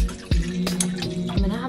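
Water is poured into the reservoir of a home espresso machine, giving a close, continuous splashing and gurgling flow with a few abrupt bumps and knocks.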